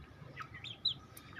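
Home-bred Aseel chicks give a few faint, brief peeps and clucks, spaced irregularly against a quiet background.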